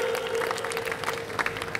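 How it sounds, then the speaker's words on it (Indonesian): Audience applause for the final contestant at a simtudduror recitation competition, a steady crowd of hands clapping in a continuous, fairly loud patter with a faint hum underneath. "tepuk tangannya untuk tepuk tangan ya. Buat Mas Hanif."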